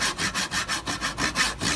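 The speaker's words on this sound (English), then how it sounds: "So one of the key things about sawing that I always try and remind the students is the long strokes." A hand saw cutting through wood in long, even back-and-forth strokes, about eight rasping passes in under two seconds, close and loud with no voices.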